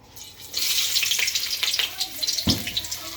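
Chopped onions hit a hot pan and sizzle steadily, a broad frying hiss that swells after a quiet start, with a few sharp crackles and a clatter from stirring while tomato scrambled eggs are being prepared.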